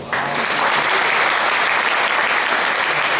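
Audience applause at a cabaret performance, a dense, steady burst of clapping that starts abruptly and holds loud and even throughout.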